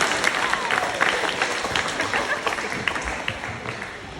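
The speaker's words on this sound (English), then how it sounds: "Give it a big clap." An audience at a wildlife park in Perth applauds steadily, a dense, even wash of clapping from a crowd throughout.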